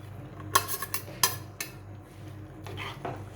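A spoon clanks and scrapes in a pot as boiled horse gram is stirred into Konkan-style sambar, a few sharp close metallic knocks followed by softer scraping, with no talking.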